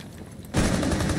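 A rapid burst of automatic gunfire from the Rainbow Six Siege video game cuts in suddenly after a quiet moment and stays loud and continuous to the end.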